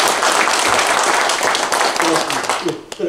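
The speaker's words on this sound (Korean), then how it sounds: "다 같이 한번 인사드릴 때 힘찬 박수로 격려해 주십시오." Audience at the Geumsan Forum annual general meeting gives a round of applause, with dense sustained clapping throughout that tapers off near the end, mixed with voices in the hall.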